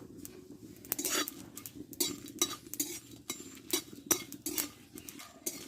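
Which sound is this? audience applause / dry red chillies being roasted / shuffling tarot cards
dry red chillies being roasted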